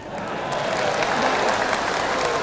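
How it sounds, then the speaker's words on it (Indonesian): An audience at a religious lecture applauds, with a dense, steady wash of clapping from many hands heard at moderate distance for a couple of seconds. "Jangan tepuk tangan dulu,"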